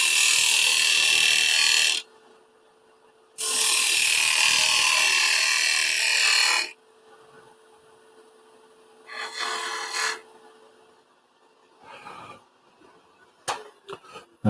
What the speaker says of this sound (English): And we'll skew cut this rim.